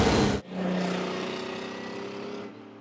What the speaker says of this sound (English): Takes a while to clear its throat, and then, oh man, what a noise. What an engine.